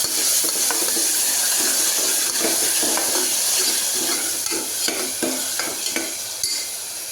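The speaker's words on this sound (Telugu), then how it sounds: "ఇప్పుడు ఉల్లిపాయ పేస్ట్ పచ్చివాసన పోయిన తర్వాత వేయించుకోవాలి" Steady, loud sizzling of onion paste frying in a hot pan, with intermittent scraping and stirring clatter throughout. No talking.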